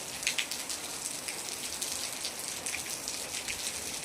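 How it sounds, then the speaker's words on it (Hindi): Heavy monsoon rain pours steadily in Nainital, a dense, even hiss of drops drumming on surfaces close by, with no voices over it. "नैनीताल में फुल बरसात शुरू हो चुकी है।"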